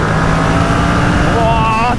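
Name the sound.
Kawasaki ER6N motorcycle accelerating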